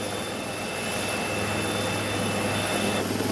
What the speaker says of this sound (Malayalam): ഹെലികോപ്റ്റർ പറന്നുയർന്ന ദൃശ്യങ്ങൾ കാണാൻ കഴിയുന്നുണ്ട്